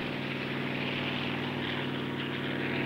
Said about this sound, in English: Helicopters can fly very high